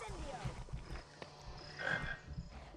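A frog croaks faintly in a Harry Potter video game, a few low, soft croaks scattered among quiet game ambience and background tones.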